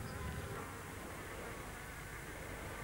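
A steady, continuous insect buzz fills the whole stretch, dense and unbroken, with no voices.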